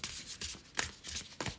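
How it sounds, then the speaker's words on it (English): Tarot cards shuffled by hand in a steady rhythm of soft, papery riffling bursts, close and fairly quiet with no talking. "They need a lot of shuffling."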